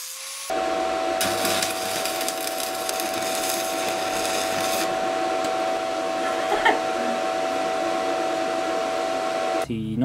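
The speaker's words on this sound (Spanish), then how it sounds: "Voy a cortar la soldadura esa para hacer una especie de surco en V entre la tapa y la pieza." Steady metallic cutting of a stainless steel weld on a lathe, a continuous whining hum with a constant tone and gritty scraping bursts, moderately loud and uninterrupted for most of the span.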